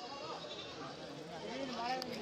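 Goats at a crowded livestock market in Kerala, with faint bleats mixed into a steady murmur of people talking nearby.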